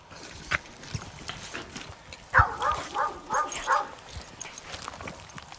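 Dogs on a rat hunt give a burst of sharp barks and whimpering yips close by, amid scuffling and digging noises outdoors.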